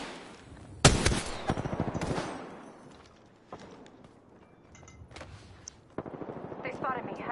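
Rapid bursts of automatic gunfire in the video game Apex Legends strike the player, loud and close, with sharp volleys early and later flurries of shots amid fainter in-game sounds.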